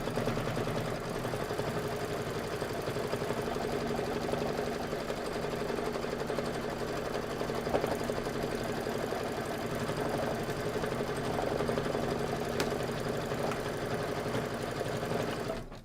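An embroidery machine stitches a satin outline around a mixer design in a quilting sew-along project, its rapid needle chatter and motor hum running steadily and evenly throughout, with no talking.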